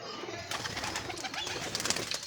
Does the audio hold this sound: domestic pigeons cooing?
yes